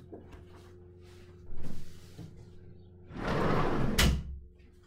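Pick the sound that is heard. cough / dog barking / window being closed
window being closed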